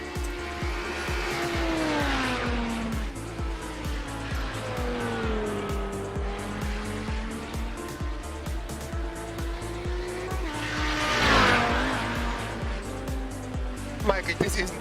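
Formula One cars in a sim racing video game scream past with high engine whine and tire squeal, pitch rising and falling as they pass, under steady commentary talk.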